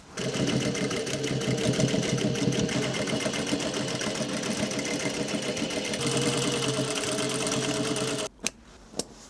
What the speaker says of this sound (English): I'm going to run a little top stitch along the top just for consistency